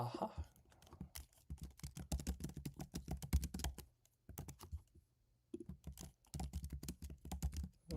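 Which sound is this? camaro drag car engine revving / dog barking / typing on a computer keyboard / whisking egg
typing on a computer keyboard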